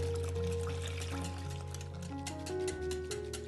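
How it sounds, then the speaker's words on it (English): Milk pours in a soft continuous stream into a bowl of pancake batter, heard faintly beneath steady background music. "A glass of milk."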